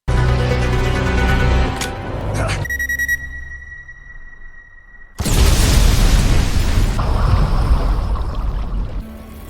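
A car bomb hidden in a car seat detonates in a 2023 action film, a sudden loud boom at mid-clip followed by a sustained roaring blast and debris rumble, after a stretch of dramatic score and a high tonal whine.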